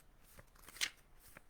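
Tarot cards being shuffled in a single quick riffle, a brief crisp rustle peaking near the middle, close and fairly quiet with no talking.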